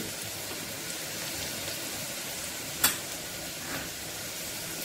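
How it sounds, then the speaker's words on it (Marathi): Chopped garlic with turmeric sizzling in hot oil in a pan for a chickpea-leaf dish, a steady soft frying hiss with one sharp crackle partway through. "लसूण थोडा परतल्यावर त्यात हळद घालून घ्यावी"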